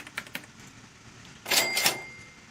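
Cash register sound effect played during a livestream: a couple of faint clicks, then a loud mechanical ka-ching with a ringing bell tone lasting about half a second.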